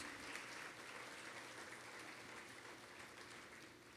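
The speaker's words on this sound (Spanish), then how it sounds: "Dele un aplauso al Señor" A church congregation applauds during a sermon, a soft, distant wash of continuous clapping that stays even and faint for the whole stretch.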